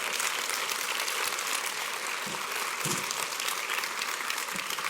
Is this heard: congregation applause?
yes